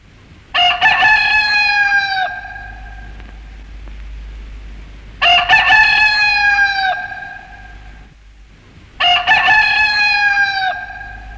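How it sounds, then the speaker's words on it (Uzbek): A rooster crows loudly and close by, three long cock-a-doodle-doo calls evenly spaced with short quiet gaps between them. "xo'rozning chillishi bilan quyosh chiqibdi"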